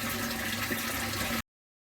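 Water rushes and gurgles steadily as a bell siphon drains a small flood-and-drain aquaponics grow bed, a continuous close flushing sound that cuts off abruptly.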